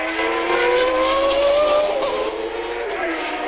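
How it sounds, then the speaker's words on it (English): Loud Formula 1 car from the 1990 French Grand Prix screaming past at high revs with a broken exhaust, a harsh rasping roar with the pitch sliding upward, close and continuous. "Possibly a broken exhaust pipe, that sort of noise."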